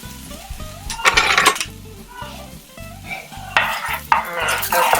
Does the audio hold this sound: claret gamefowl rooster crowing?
no